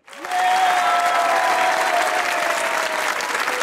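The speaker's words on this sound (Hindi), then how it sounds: "अगर आप लोग भी दूसरों को खुश देखना चाहते हैं तो तालियां बजाइए" Studio audience at a comedy talk show claps in sustained, dense applause that swells in quickly and holds steady for several seconds, with no talking over it.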